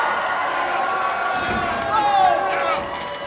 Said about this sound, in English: The crowd is loving every minute of it.